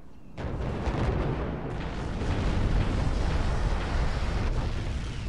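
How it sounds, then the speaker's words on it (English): Missile strike explosions in the Star Wars: Republic Commando video game, one sudden loud blast followed by a dense, sustained rumbling roar of debris and fire that fills the whole span with no talk. "That's how massive those explosions were."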